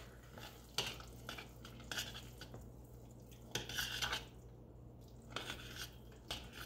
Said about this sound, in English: Now, keep stirring it up.